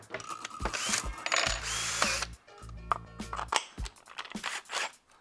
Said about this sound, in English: So I take a drill, and then now if I'm stripping line, I just go, right?